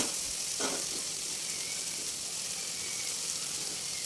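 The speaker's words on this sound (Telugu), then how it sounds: "తర్వాత ఈ ఉడికించుకున్న క్యాబేజీ పచ్చనపప్పు ఉంది కదండి దాంట్లో యాడ్ చేసేసుకుందాం" Boiled cabbage and chana dal hitting a hot pan, giving a steady close sizzle with a brief louder crackle near the start, accompanied by light stirring and no voices.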